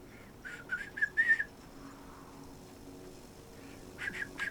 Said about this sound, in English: I can whistle, yes. Not very well, but I can whistle.